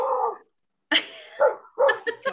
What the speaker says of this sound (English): Dog's barking at a 10-gallon water bottle.